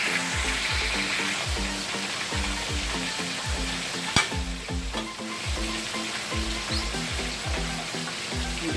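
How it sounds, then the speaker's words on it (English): A pan of sauce for Jamaican escovitch fish bubbles and sizzles on the heat, a steady close hiss with a rhythmic pulsing pattern and one sharp clink midway. "Sauce is cooking up."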